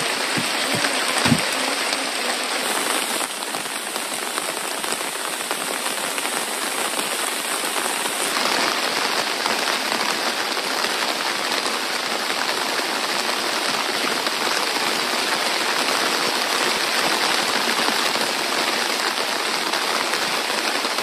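Heavy rain pours steadily on a forest during a fishing trip, a dense, even hiss that runs unbroken and alone, with no voices.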